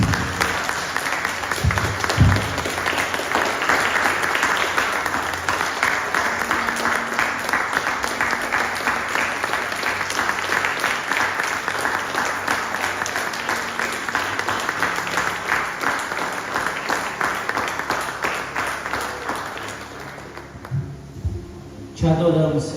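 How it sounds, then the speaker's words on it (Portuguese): A church congregation applauds loudly and continuously for a long stretch during a worship service, with voices mixed in, before the clapping fades out at the end. "Aplauda o Senhor Jesus."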